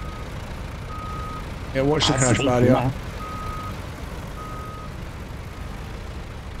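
A truck in the video game Snowrunner sounds a few evenly spaced reversing beeps over a low idling engine rumble, with a brief spoken line cutting in partway through.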